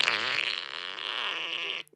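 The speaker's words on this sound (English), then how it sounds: "10 seconds of fart in response to a breakup message" A long, continuous buzzing fart in a phone recording sent by a 40-year-old man, steady and fairly faint, cutting off abruptly after about two seconds.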